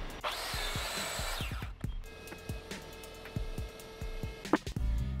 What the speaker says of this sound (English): So I set up my plunge saw to that angle and cut one edge on each half.